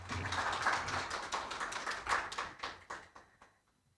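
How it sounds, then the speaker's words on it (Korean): A room of people applauds, a burst of many hands clapping that gradually thins out and fades to silence. "큰 박수"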